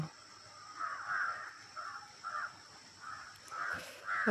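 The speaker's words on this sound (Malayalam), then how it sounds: "ആദ്യം എഴുന്നേൽക്കുന്നത് കാക്കയാണ്" Repeated harsh caws from a crow on a windy, cold morning in Pathanamthitta, about seven calls in an uneven rhythm, moderately near and fairly soft over a steady background hiss.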